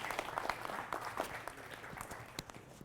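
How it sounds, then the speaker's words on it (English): Faint, scattered applause from a small audience at an electric-vehicle club's general meeting, thanking board members with light, uneven clapping for about three seconds. "let's give them a round of applause for helping pull this together"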